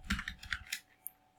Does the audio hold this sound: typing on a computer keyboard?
yes